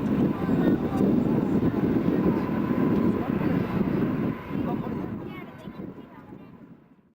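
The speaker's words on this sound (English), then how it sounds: "the P-51 you see making a low pass down the runway" A North American P-51 Mustang makes a low pass down the runway at the 2003 Andrews AFB air show, a broad rumbling engine roar that holds steady and then fades away into silence.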